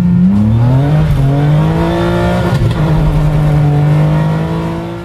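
A 1997 Ferrari 456 GTA engine revs loud and close, pitch climbing through gear changes in repeated rising sweeps, with a sustained mechanical roar that eases off slightly toward the end.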